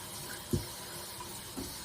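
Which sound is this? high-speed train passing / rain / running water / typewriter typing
running water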